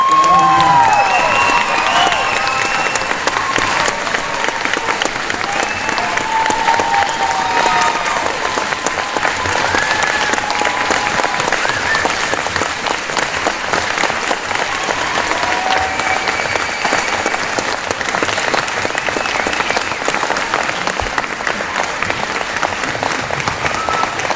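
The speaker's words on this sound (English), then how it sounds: "let's give him a nice round of applause" Sustained applause from a large audience at a school band spring concert, steady and dense throughout, with faint cheers and whoops mixed in.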